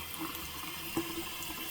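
A waterfall-style bathroom faucet runs at full blast, giving a steady, even rush of water that holds at one level throughout with no pauses.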